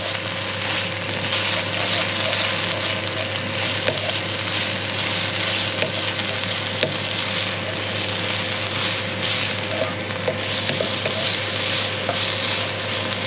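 Blanched broccoli stir-frying in a hot pan gives a steady, close sizzle with soft clatter from stirring, holding an even level throughout with no talking.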